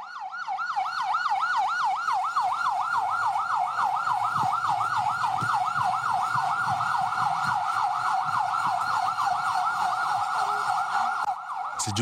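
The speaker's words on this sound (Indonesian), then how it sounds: "Sejumlah mobil ambulans hilir mudik membawa korban keracunan ke posko darurat" An ambulance siren wails continuously in a fast rising-and-falling pattern, loud and close, as ambulances ferry food-poisoning victims to an emergency post at a school in West Bandung, Indonesia.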